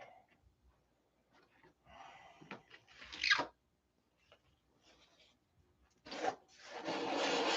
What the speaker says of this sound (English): when I start sanding on this on a round surface